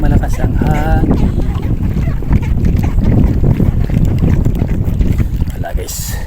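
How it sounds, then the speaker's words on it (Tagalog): Strong coastal wind buffets the microphone with a loud, steady low roar throughout, at an Al Reem Island fishing spot in Abu Dhabi during squid hunting, with a voice speaking briefly near the start. "Malakas ang hangin."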